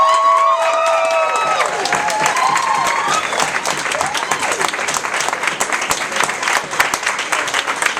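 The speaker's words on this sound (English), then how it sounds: "Let's give them another round of applause." An audience at an annual education event breaks into dense, sustained applause with some cheering, loud and close throughout, while voices and a few whoops rise over the clapping at the start.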